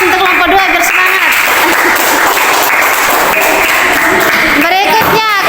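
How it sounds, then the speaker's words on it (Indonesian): Loud, sustained applause from a class celebrating group 2 in a classroom quiz contest, continuous clapping filling the whole stretch with voices mixed in. "Tepuk tangan yang keras untuk kelompok 2 biar semangat"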